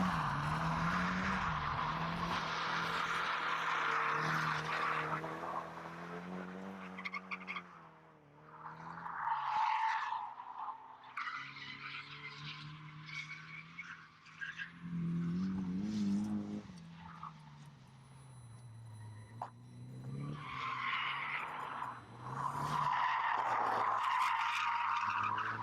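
A Nissan NISMO 270R drifts with long tire squeals and skids over a rising and falling engine that revs hard, eases off and comes back on, loud and close throughout, with no voices.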